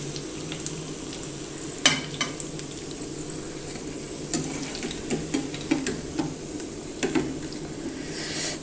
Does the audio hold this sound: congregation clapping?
no